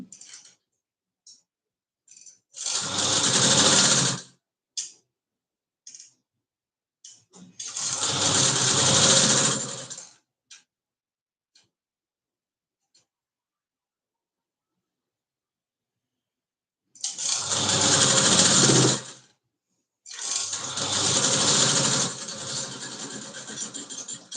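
An electric sewing machine stitching a katori-style blouse runs in four loud, steady whirring bursts of a few seconds each, separated by quiet gaps with small handling clicks.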